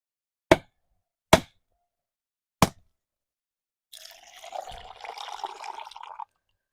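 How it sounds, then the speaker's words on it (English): Three sharp, separate knocks crack open a coconut, making a Jamaican coconut snack. After a short pause comes a few seconds of splashing, trickling liquid as the coconut water runs out, close and fairly quiet. "the first thing I'm going to be doing is crack my coconut to make sure say it good and can be edible"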